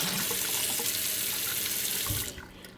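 Water runs steadily from a tap into a newly installed sink, a loud, even rush that cuts off abruptly near the end.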